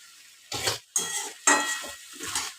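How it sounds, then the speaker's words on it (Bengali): Potato and eggplant curry fries in a pan with water sprinkled on, giving four separate bursts of stirring and hissing against near silence. "আবার একটু জল ছিটা দিলাম, সেদ্ধ যাতে ভালোভাবে হয়ে যায়।"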